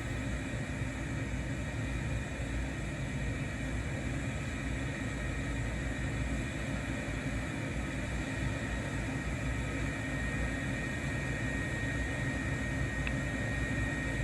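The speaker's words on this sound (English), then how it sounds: "It's more than enough room to get an F-35 into the air, so let's go back to STOA mode." An F-35 jet engine in STOVL mode in a video game, a continuous steady roar with a high whine layered over broadband hiss, unchanging throughout with no talk.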